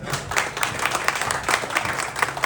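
A brief burst of crowd applause greets Naik Deepchand at a public ceremony: steady, dense clapping throughout.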